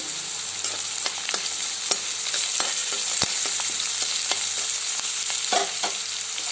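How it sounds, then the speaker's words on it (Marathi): Cashews sauté in a pan with ginger and cinnamon for a dhaba-style paneer masala, giving a steady close sizzle broken by scattered scraping taps of a stirring spoon. "लाल होईपर्यंत आपल्याला हे सर्व परतून घ्यायचं आहे"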